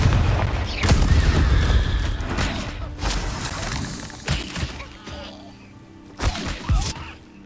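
Confringo fire-blast spell explosions from the video game Hogwarts Legacy go off as several sharp, loud booms spread irregularly over several seconds, each with a rumbling tail, mixed with other combat noise.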